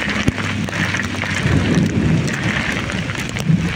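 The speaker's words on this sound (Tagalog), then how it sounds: "Kulog sa kidlat." Thunder rumbles through steady rain during a thunderstorm on a city street, with a sharp crack early on and a continuous wash of rainfall throughout, loud and close with no voices.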